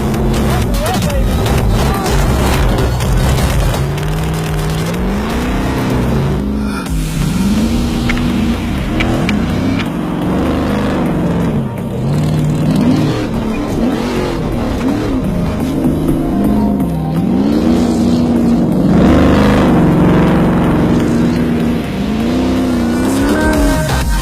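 A Traxxas remote control truck drives continuously, its electric motor whining up and down in pitch as it speeds and slows over ramps, loud and close throughout, with voices talking over it at times.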